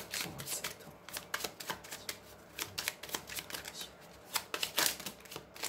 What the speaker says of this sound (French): il y a beaucoup de cartes qui tombent